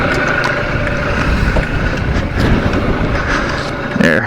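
Wind gusts and buffets steadily around a parked 1998 Honda Tacty 50 scooter standing on its stand outdoors, a loud, continuous rushing roar with slight surges throughout.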